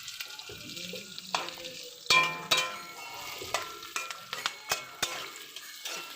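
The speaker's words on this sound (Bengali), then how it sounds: "লাল লাল করে ভেজে নেবো, গোটা গোটা পেঁয়াজ" Large pieces of whole onion frying in a pan for chili soybean: a low, steady sizzle broken by sharp clacks and scrapes of a spatula being stirred, close and moderately loud.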